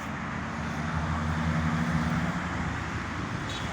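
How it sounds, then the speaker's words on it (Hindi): Steady road traffic noise beside a roadside plant nursery, a continuous broad wash of passing vehicles with a low engine hum, moderately loud and unbroken throughout, with no talking. "ट्रैफिक का शोर है यहाँ"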